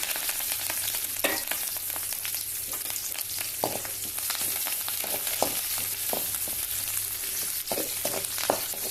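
Small onions and curry leaves fry in a pan with a steady, loud sizzle, broken by frequent sharp crackles and the scrape of stirring, close and without voices.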